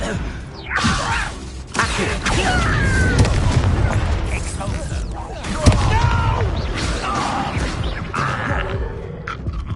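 Spell-casting and combat in Hogwarts Legacy, with whooshes, sharp magical blasts and thumping impacts spread across the scene, a loud bang near the middle, and a voice speaking over parts of it.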